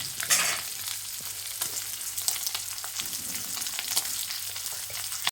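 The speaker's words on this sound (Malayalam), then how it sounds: "നമ്മുടെ വളർത്തമീൻ ചട്ടി കിടന്ന് മുരിഞ്ഞുകൊണ്ടിരിക്കുകയാണ്" An anchovy fish curry bubbles and sizzles in a clay pot, a continuous close crackling fry with small pops throughout and no talking.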